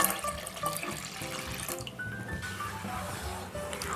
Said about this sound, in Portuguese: e vou acrescentar 500 ml de água.